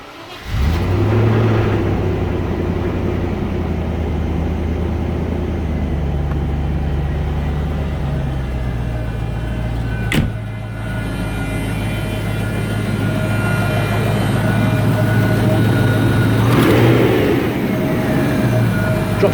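A 1994 Range Rover engine revving up and then settling back toward idle, a steady close engine drone with a brief rise and fall, running continuously without talk.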